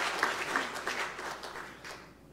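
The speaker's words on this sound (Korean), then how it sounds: "박수 치고 싶으면" A small congregation in a church claps briefly and softly, a few seconds of scattered applause heard at a distance that dies away quickly.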